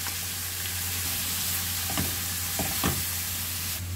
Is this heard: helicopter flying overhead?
no